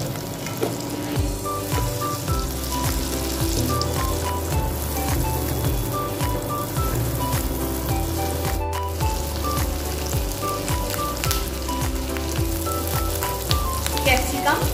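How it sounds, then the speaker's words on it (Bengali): Carrots frying in butter in a pan, a loud close sizzle with crackling spatter continuing for the whole stretch, with light stirring knocks and a brief sharp clatter midway; background music plays under it. "বাটার দিলাম। গাজরটা একটু ভেজে নেব।"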